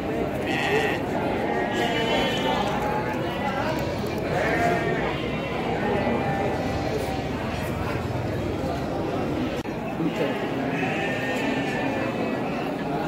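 Garut fighting sheep bleat repeatedly at a crowded sheep market, several wavering calls rising over a constant murmur of talking people and general market bustle.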